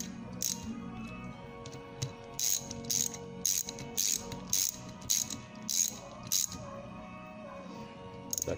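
A ratchet tightens a screw on a Holley Quadrajet carburetor on a workbench: a run of about nine quick, crisp clicking bursts in steady rhythm, close and fairly quiet, with faint background sound.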